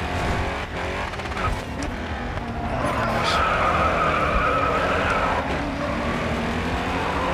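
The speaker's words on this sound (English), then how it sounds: "Ko, I hear your friggin' wheels just squealing behind me" Racing cars in the video game Grid 2 roar steadily with loud, sustained tire squeal and skidding as they slide through corners, the engine noise dense and continuous throughout.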